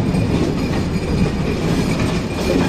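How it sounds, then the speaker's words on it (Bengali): Chilahati Express train pulling into Ibrahimabad railway station, with a loud, continuous close rumble of wheels on rails and a faint rhythmic clatter throughout. "সেই সাথে আমাদের ট্রেন প্রবেশ করছে ইব্রাহিমাবাদ"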